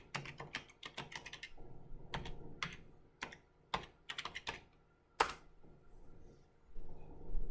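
Fingers type on a computer keyboard in quick clusters of close, crisp keystrokes, broken by brief pauses and a few sharper single key hits, with no voice over the clicking.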